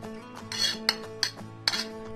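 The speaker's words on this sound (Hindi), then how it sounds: "अब लास्ट एंड 5th स्टेप में हम कुकर लेंगे और उसमें एक चम्मच देसी घी डालेंगे।" A metal spoon clinks against a pressure cooker several times while adding ghee, sharp taps and a scrape close up in a quiet kitchen.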